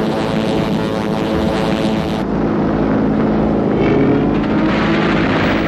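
Spitfire fighter planes in flight make a loud, continuous engine roar with a steady propeller drone that holds throughout, close and dense, with no talk.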